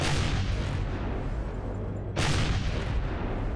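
Sniper fire hits a wrecked structure in the space survival game Empyrion Galactic Survival, with a loud, noisy blast that fills the opening, eases, then a sharp new report cracks in partway through.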